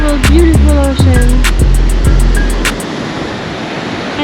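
Ocean waves break on a Costa Rica shore in a steady, close, loud roar of surf. Brief tonal chirps and clicks sit over the first few seconds, then only the wash of water remains.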